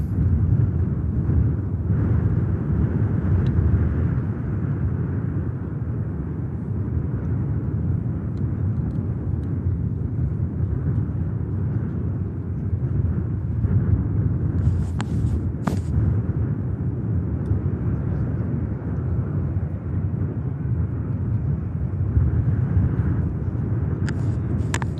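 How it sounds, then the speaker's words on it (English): Saudia Boeing 787 Dreamliner departing Manchester Airport for Jeddah, a steady low jet roar filling the whole stretch with a broad rumble that holds level throughout, with a few brief higher hisses midway. "Another stunner out next, Saudi. Dreamliner heading out to Jeddah."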